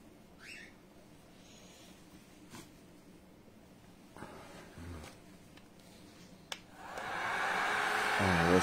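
A hair dryer blowing on a tissue box being refinished in a DIY project switches on near the end and runs as a loud, steady whoosh, after a stretch of quiet room noise with a few small knocks and clicks.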